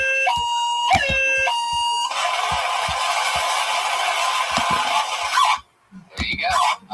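A siren wails in a high, whistle-like two-tone pattern, then gives way to a steady blaring wail before cutting off into brief sounds.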